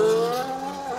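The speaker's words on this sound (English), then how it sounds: "It's a McLaren going past" A McLaren Formula 1 car passing on track in Spain, a loud high engine whine that slowly falls in pitch as it goes by in about a second.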